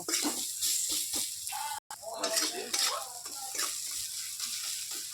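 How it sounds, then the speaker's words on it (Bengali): Onions frying in oil in a pan give a steady, close sizzle with stirring scrapes, broken by a brief dropout partway through, with a low hum beneath. "পেঁয়াজটা ভাজি হয়ে গেছে এবার মাছের তেলটা দিয়ে দেব"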